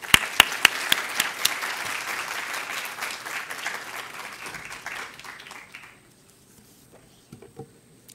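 Audience applause welcoming Professor Sofia Gruskin to the lectern for the Sir John Monash Lecture, a steady wash of clapping hands that fades out over several seconds and leaves near silence, with a few faint bumps at the end.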